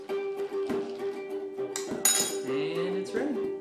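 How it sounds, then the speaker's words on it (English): A spoon stirs agave nectar into a glass of iced French press coffee, clinking and scraping against the glass with ice in a quick, irregular rhythm, close and fairly loud. "Stir it up a little bit"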